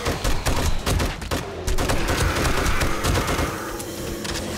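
Sustained automatic gunfire in the zombie survival game 7 Days to Die, loud and continuous, with rapid overlapping shots and scattered impacts forming a dense battle din for several seconds without a break.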